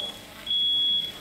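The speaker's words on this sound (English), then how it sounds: "Oh, no! The fire alarm." A smoke alarm sounds a single sustained high electronic beep, fairly faint against a quiet room, in a chaotic kitchen cooking game.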